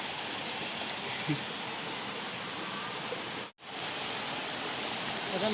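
First tier of the Khao Sip Ha Chan waterfall: a steady, dense rush of falling water, fairly quiet and uniform, with a brief dropout midway.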